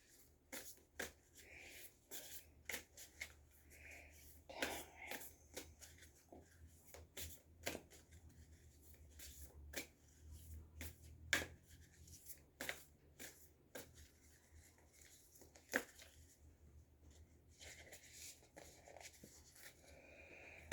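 Tarot light cards are shuffled by hand at close range, making soft irregular flicking and riffling sounds with quiet taps, continuing steadily throughout.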